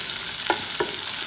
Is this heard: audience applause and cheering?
no